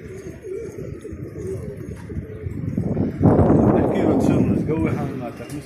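Pigeons cooing and fluttering nearby under steady outdoor noise, with a louder burst of wing flapping and scuffling partway through.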